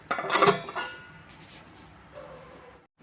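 A plate set down over a paddu pan on the stove, giving a brief clink of metal and crockery near the start, followed by quiet kitchen ambience.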